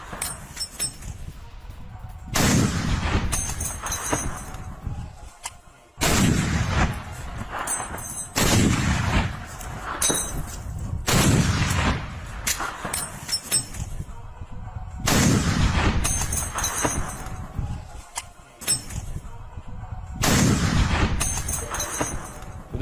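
Anti-tank rifle gunfire in Ukraine war footage: several heavy, booming shots, each a sharp blast trailing into a long rumbling decay, spaced a few seconds apart, with faint metallic clinks in between.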